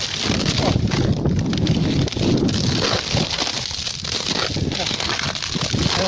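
Cold wind blows steadily outdoors on a snowy northern route, a broadband rushing roar buffeting the microphone throughout with faint rustling.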